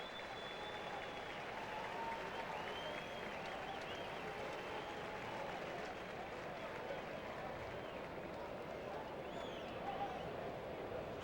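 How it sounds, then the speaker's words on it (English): A baseball crowd at a Dodgers–Braves game in Atlanta applauds Brett Butler, a broad, distant wash of clapping and murmur that holds steady throughout with faint scattered shouts. "he gets a great round of applause, as he so justly deserves"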